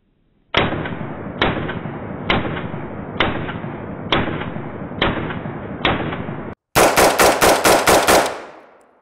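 A rifle fired without its BattleComp muzzle device: seven loud, evenly spaced shots, each with a ringing decay, then a rapid string of about seven more shots fired close together.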